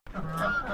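Ducks on a pigeon and poultry farm calling as they squabble: a single nasal, honking call held for under a second, close and clear.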